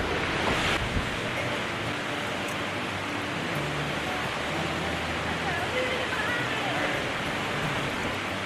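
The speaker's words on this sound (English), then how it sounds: "It is very windy, windier than anticipated." Strong wind roars steadily across a microphone on a mountain hiking trail with a husky, a dense, unbroken rushing noise with faint voices buried beneath it.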